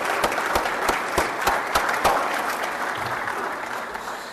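A crowd applauds steadily, with a few sharp individual claps standing out early before the clapping settles into an even wash.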